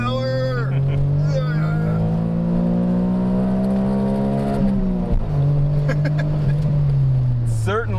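A Suzuki Cappuccino's small engine revs hard at full power, a droning note climbing steadily then dipping and rising again with a gear change, steady and close, with people talking over it.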